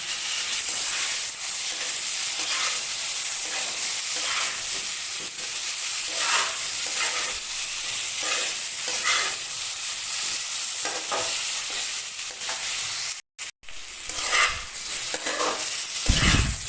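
Steamed vegetables fry in a pan with oil and cloves for a Bengali dudh shukto, a steady loud sizzle with repeated stirring scrapes throughout and a brief break near the end.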